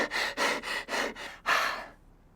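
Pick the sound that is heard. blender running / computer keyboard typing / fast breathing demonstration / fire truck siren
fast breathing demonstration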